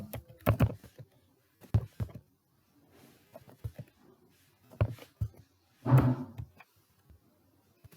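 Student records are entered on a computer keyboard in irregular clusters of close, crisp key clacks separated by quiet gaps, with a heavier burst near the end.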